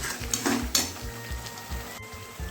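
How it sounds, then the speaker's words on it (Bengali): Spice masala with salt and turmeric powder sizzles and fries in a pan for an egg curry, with steady crackling, a few stirring scrapes and light clinks of a utensil against the pan. "এবারে অ্যাড করে দেবো পরিমাণ মতো লবণ হলুদের গুঁড়ো এ ভালোভাবে মশলাটাকে কষিয়ে নেব"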